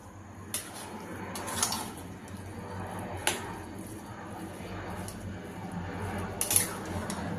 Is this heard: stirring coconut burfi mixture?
yes